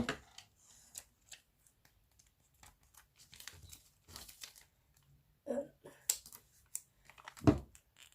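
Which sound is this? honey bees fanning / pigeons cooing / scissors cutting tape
scissors cutting tape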